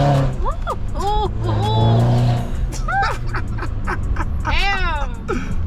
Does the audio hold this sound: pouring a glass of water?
no